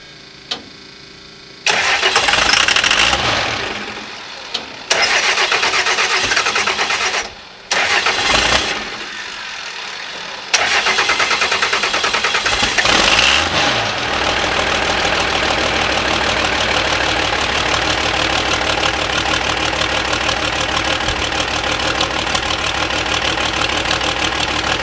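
A vehicle engine cranks and starts after transmission work, stumbling through a couple of loud catches and cutouts before settling into a steady, close, rough idle.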